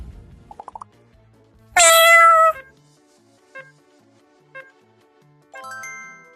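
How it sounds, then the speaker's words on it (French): A cat meows, a loud drawn-out cry followed by a few shorter, softer chirps and another meow near the end, close and clear against quiet. "Un chat."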